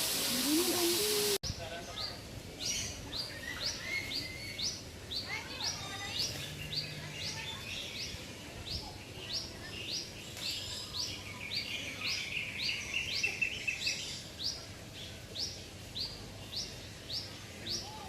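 Birds at Bali Bird Park giving steady, repeated high chirps in a regular rhythm over a hiss of outdoor ambience, while people talk nearby.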